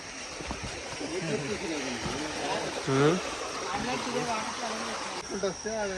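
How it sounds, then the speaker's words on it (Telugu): A waterfall in Bali gives a steady broadband rush of falling water through the whole stretch, with people talking over it at close range. "water fall"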